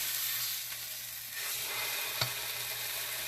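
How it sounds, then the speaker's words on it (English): A birria taco sears on a hot grill, giving a steady, close sizzle with faint hiss throughout and one brief tap near the end. "just let that sit and sear. It's hot, so don't do what I'm doing."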